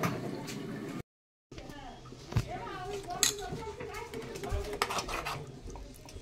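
Kitchen dishwork at home: a spice bowl is rinsed and a little water poured into a cooking pan, with clinks of bowls and utensils, splashing liquid and a person talking throughout.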